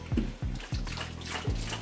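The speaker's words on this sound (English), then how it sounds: "drain all this water out into our colander" Pasta water from spaghetti pours and splashes into a colander in a kitchen, in several sloshing pulses close by, with no talk.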